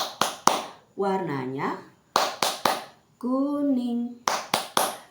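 Children's clapping song in a classroom: bursts of three sharp rhythmic hand claps alternate with a woman singing the verses, claps loud and close between sung lines.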